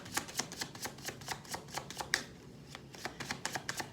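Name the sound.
tarot cards being shuffled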